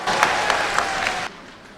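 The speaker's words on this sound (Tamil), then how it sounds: "கைத்தட்டல் விழுகிறது" Audience applause at a stage speech event, a short burst of clapping from the crowd that cuts off abruptly partway through.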